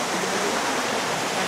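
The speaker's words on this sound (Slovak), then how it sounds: "Takéto vodopády." Waterfall on a mountain hiking trail near Terchová, Slovakia: a steady, loud broadband rush of falling water, continuous and close, with no voices.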